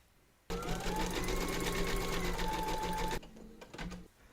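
An embroidery machine stitches one round of a quilted table runner, a loud close steady whirring hum that runs for a few seconds, then a short quieter burst of stitching before it stops.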